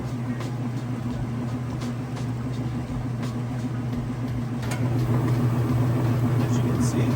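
Whirlpool washing machine in its spin cycle, a steady mid-pitched motor whir and hum that builds slightly louder near the end, with someone talking over it.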